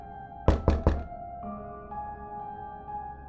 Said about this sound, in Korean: 부대원이 다급한 목소리로 문을 마구 두드렸습니다.